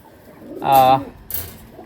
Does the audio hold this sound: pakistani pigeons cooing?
yes